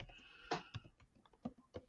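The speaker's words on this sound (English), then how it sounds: "All right, I'm typing that in down here." Light typing on a computer keyboard, a handful of soft, irregular key clicks close by in a quiet room.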